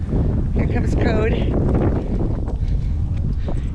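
On a hike with puppies, wind roars steadily against the microphone while a person talks over it and a dog makes a brief whine.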